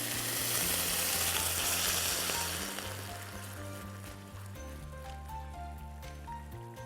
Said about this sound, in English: we start pouring our liquids, so white wine and white vinegar